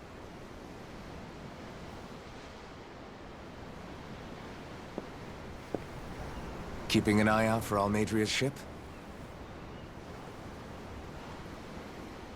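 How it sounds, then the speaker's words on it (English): Ocean waves in the Tales of Arise video game make a steady, soft surf wash beneath a brief line of spoken dialogue. "The waves. They help me think."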